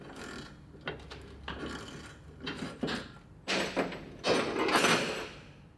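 A shifter wrench grips a spinning trim tab anode on a Johnson/Evinrude outboard while a nut is undone, giving a series of close metallic clanks, scrapes and ratcheting taps that grow louder and busier toward the end.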